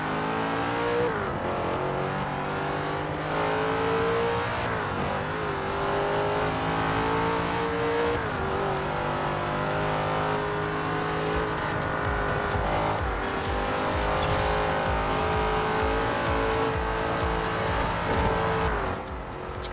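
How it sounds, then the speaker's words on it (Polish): A Dodge Viper engine in the racing game Forza Horizon 4 revs and accelerates loudly, with rising and falling gear-shift sweeps and occasional tire squeal. It runs continuously, heard from behind the car, with no talk. "Ale dziwnie brzmi ten Viper. Tak jak się jedzie z tyłu za nim. Tak jak jakaś kosiarka."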